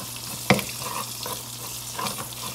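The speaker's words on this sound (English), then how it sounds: "fry inside of your oil, because what you're doing is cooking out the rawness of your tomato paste" Tomato paste fries in oil for a Haitian conch stew, giving a steady close sizzle. One sharp clatter early on is likely a utensil against the pot, and softer stirring scrapes follow.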